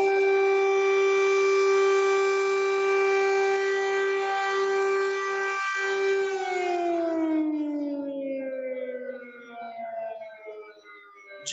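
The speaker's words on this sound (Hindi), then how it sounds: "सायरन की आवाज बहुत भयावह है, डराने वाली है।" A loud, steady air raid siren wail, amid the Russia-Ukraine war, holds one pitch for several seconds, then slowly winds down and fades, with no voices present.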